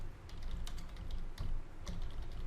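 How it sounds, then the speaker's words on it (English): Fingers type a keyword on a computer keyboard in a quick, steady run of close, crisp key clicks with no talking. "All we need to do here is we type in any keyword."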